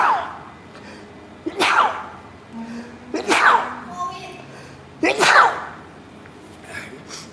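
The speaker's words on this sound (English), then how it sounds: "I gotta sneeze." Three loud sneezes from an adult, spaced about two seconds apart, each a sharp burst fading quickly, with a small fourth puff of breath near the end over a quiet room hum during a casual live stream.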